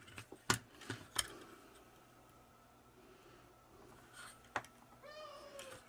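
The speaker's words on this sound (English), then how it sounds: "What is a kitten? A pitiful little pile of mews." A kitten mews a few times, short thin cries over faint background noise, with a couple of sharp clicks near the start and a rising, wavering meow near the end.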